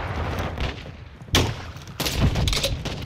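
Grenade launcher fire and blast in Call of Duty: Modern Warfare II, with a sharp burst near 1.3 seconds and a heavier rumbling explosion from about 2 seconds on, all over steady game noise.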